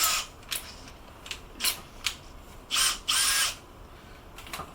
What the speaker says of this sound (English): So now we Drill the hole.